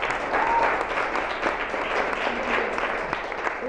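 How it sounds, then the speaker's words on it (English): Steady round of applause from a conference audience at a Get Stuff Done Conference workshop, dense clapping held at an even level throughout with no talk over it. "let's take a minute and just give a good round of applause to Knit Marketing"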